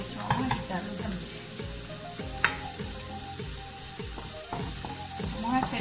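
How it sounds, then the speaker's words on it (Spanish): Chopped onions sautéing over high heat in a pan, a continuous close sizzle with repeated scraping stirs throughout. "Sofreímos nuestras cebollitas."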